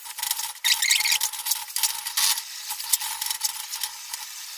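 Sour yogurt hitting a pan of egg curry on low flame, giving a bright steady sizzle with scraping and stirring scratches, close and continuous.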